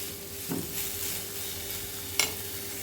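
Ridge gourd peel fries quietly in a pan, a low continuous sizzle broken by two sharper stirring scrapes, one early and one near the end.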